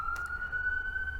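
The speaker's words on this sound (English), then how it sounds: "And you will hear the sounds of the sirens" A single steady siren tone holds one pitch and rises slowly, sounding moderately loud over a low background rumble, with no voices.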